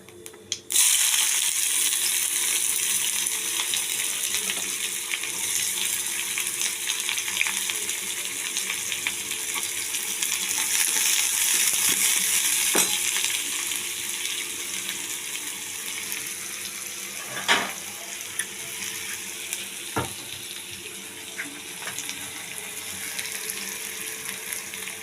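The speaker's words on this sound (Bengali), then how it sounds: "এবার আমি পেঁয়াজ দিয়ে দিচ্ছি।" Onions frying in oil in a pan for cauliflower paratha filling: a dense, continuous sizzle holds loud and close throughout, with occasional faint clicks and taps, and no one speaking.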